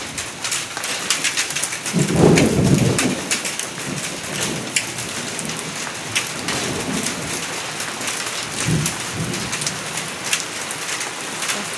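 A spring afternoon storm pours steady heavy rain onto surfaces, with dense drop patter throughout and two low rumbles of thunder rolling through, one early and one later.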